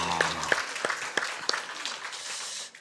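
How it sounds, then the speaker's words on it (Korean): A church congregation claps for the choir after a Korean worship song, with scattered, uneven claps and some cheering that thin out toward the end. "우리 찬양대회에서 우리 박수해 주시면 감사하겠습니다"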